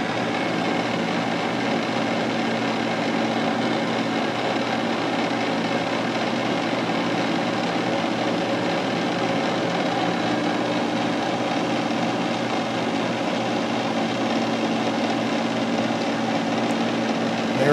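Steady mechanical drone from a manual lathe threading a Polaris snowmobile Fox IFP shaft with the half nut engaged, carbide tool cutting; continuous, even hum with no talk.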